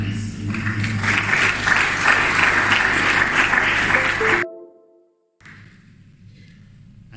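Audience applause at a national human rights dialogue, a dense, steady clapping crowd that holds loud for about four seconds, then cuts off abruptly into near silence before faint room noise returns.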